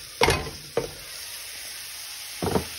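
Rice tipped into a hot pan for fried rice with shredded ham, ground beef and sausage, giving three short scraping, stirring bursts over a steady background sizzle.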